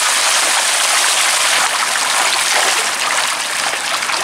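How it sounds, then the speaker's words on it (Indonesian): Water splashing and churning steadily as koi carp feed in a pond, a loud, dense, continuous rush with no talk. "Ini agak ciprat airnya."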